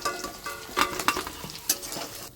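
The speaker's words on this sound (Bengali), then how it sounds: "কাবাবগুলো আমি কেটে রেখেছিলাম সেগুলো ভেজে নিচ্ছি" Cut pieces of chicken kebab frying in white oil, giving a steady sizzle with sharp crackling pops scattered through it, close and fairly quiet.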